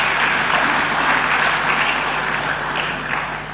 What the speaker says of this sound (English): I think you deserve another round of applause for that.